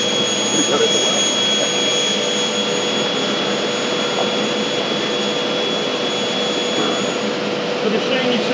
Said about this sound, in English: The machine you see here is a state-of-the-art CNC machine.